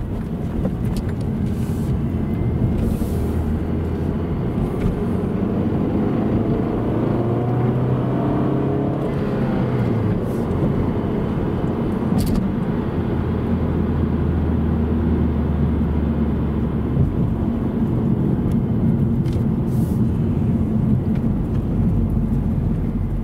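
A 1998 Honda Accord with a newly broken-in clutch accelerates hard on a freeway, a loud steady engine drone with rising and falling pitch over constant road and wind roar, heard from inside the car.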